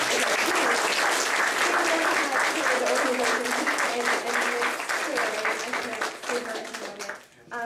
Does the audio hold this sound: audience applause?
yes